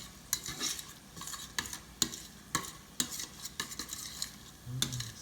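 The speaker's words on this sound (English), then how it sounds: "And then I'm gonna let that saute for a minute." Meat filling for stuffed shells sautés in a pan while a utensil stirs it, giving repeated clacks and scrapes against the metal over a low hiss of frying, with no voices.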